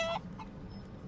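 A hen in Divinity Original Sin 2 clucking in a short, close burst of agitated bird calls, brief and alone.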